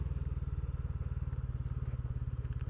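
A TVS motorcycle engine in second gear around 3000 rpm descends a hill near Tinchuley with the throttle closed, giving a steady, close, pulsing low thrum.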